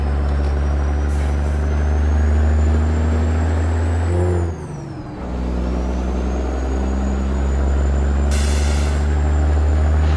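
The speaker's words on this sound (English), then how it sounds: "Just listen to the sound of that truck" A heavy truck in American Truck Simulator runs with a steady low diesel drone, then gives a sharp hiss of its air brakes about midway as the engine dips before it climbs back, all close and loud.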